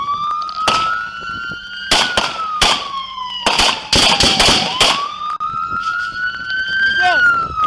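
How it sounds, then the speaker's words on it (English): Several sharp gunshots from a shotgun crack over a wailing police siren during a chase, loud and close, with officers shouting between the blasts. "Shots fired! Shots fired!"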